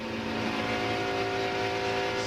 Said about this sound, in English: Off the gas, try to get the car down. Listen.